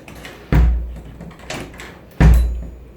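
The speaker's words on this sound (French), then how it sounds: "j'ai galéré avec la porte." A room door is worked open with difficulty. Two heavy thuds ring out about two seconds apart, with softer knocks and handle rattles between them, close and loud indoors.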